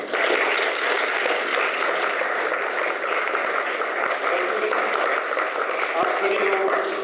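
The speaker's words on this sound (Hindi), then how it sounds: "इनके लिए तालियां बजाएं।" A church congregation claps together at a Sunday service, a dense, even wash of applause that fills the whole stretch with little variation.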